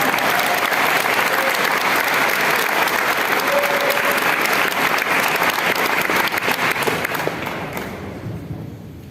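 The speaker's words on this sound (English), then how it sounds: "one more round of applause for the CDS class of 2023." Graduation audience applauds the CDS high school class of 2023 at a commencement ceremony, a dense, loud sustained clapping that fills the hall and then tapers off toward the end.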